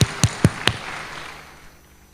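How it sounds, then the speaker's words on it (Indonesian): A church congregation claps together during a sermon: four sharp, evenly spaced claps in quick rhythm, then a reverberant fade into quiet. "Boleh kita berikan tepuk tangan bagi Tuhan Yesus?"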